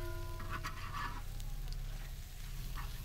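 Kerala-style boti fry masala sizzles steadily in a pan while being stirred, a continuous close frying hiss with faint scraping, no voices.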